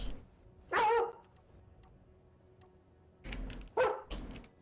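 A dog barks twice, close and fairly loud: one sharp bark near the start, then a pair of quick barks about three seconds later, with quiet room tone in between and no talking.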